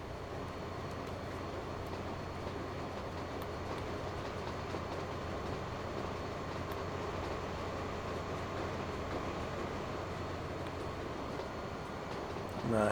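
A train pulls into a station in the video game Transport Fever 2, a steady rolling rumble with a low engine hum, holding even and loud throughout with no talk over it.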